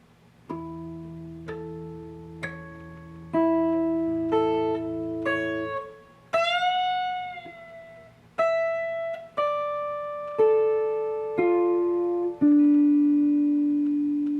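Guitar harmonics from a guitar solo ring out one at a time in a slow sequence of bell-like chiming notes, each sustaining and decaying, clear and unaccompanied.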